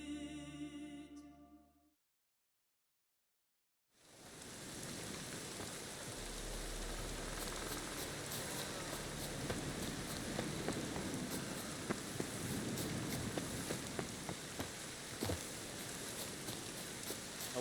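In The Witcher 3: Wild Hunt video game, after a short tonal passage and a moment of silence, dense steady rainfall fills the scene, with scattered droplet ticks throughout.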